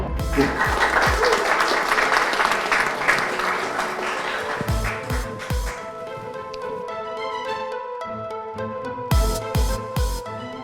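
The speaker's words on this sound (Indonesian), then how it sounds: "Berikan tepuk tangan yang paling meriah." Lively applause rises from an audience welcoming a speaker to the stage at a formal event, broad clapping that thins midway, with sharper claps and thumps scattered through and a final flurry toward the end.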